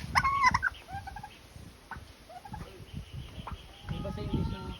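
Turkeys gobble and chatter in short bursts nearby, with people talking over the birds.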